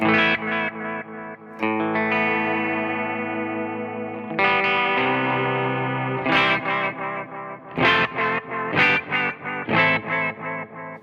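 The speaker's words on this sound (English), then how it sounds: "The delays have got vibrato on, by the way." An electric guitar plays sustained chords and then plucked notes through a pedalboard delay set with vibrato, soaked in wavering, pitch-wobbling repeats.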